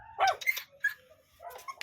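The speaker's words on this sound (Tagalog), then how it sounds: "Siya naman kumakahol." Small puppy giving several short, high yips and barks close by, separated by brief quiet gaps.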